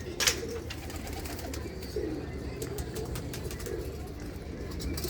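A pair of black pigeons coos softly in a few low, repeated calls against a steady rumble of background noise; the male came from a pigeon keeper's home in Pathankot.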